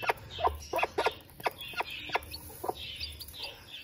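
An Aseel hen makes short, soft clucks to her newly hatched chick, repeating in an irregular series of close, moderately quiet calls with faint chick peeps between them.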